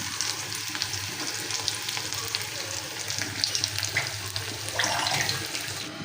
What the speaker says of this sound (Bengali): এই যে ডালে আমি ফোড়ন দিয়ে দিয়েছি